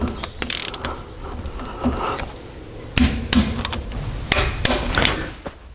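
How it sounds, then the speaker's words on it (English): Steady metallic clicking of a ratchet wrench torquing the bolts on a Land Rover Defender rear axle differential, heard close up as repeated sharp clicks and clunks with no talk. "So now what's left is to torque them down to the right torque."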